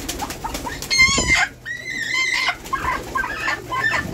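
Birds in a rooftop coop with ducks, chickens and pigeons make loud, close clucking and squawking calls in short bursts, with no talk.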